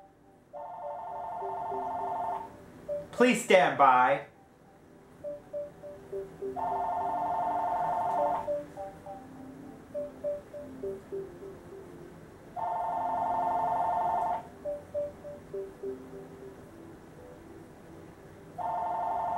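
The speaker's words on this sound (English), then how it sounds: "Phone, come on, I'm recording here." A phone rings again and again during a recording session, with repeated electronic ring bursts separated by pauses and a brief warbling tone near the start.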